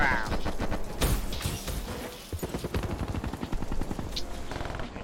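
Rapid-fire gunfire in Black Ops 3, a fast rattling automatic burst of closely spaced shots, loud and near, with a player talking over it.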